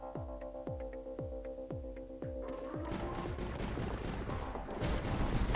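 Sniper towers fire in a tower-defense video game, a regular series of punchy, ringing shots about every half second, followed by a denser layer of overlapping impacts and effects that builds toward the end.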